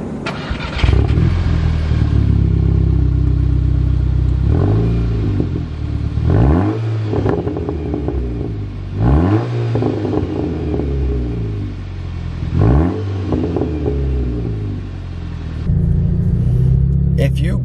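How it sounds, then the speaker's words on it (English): Exhaust of a Volkswagen Mk6 GTI, modified, revved several times in close succession, each rev rising and falling over a steady rumbling idle, loud and close with no talking. "I actually am going to give you guys like a sound test of the exhaust before I take off"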